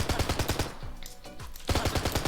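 Rapid gunfire from modded guns in Minecraft, fast regular bursts of shots that pause briefly midway and then resume at the same quick rhythm, loud and close with no talk.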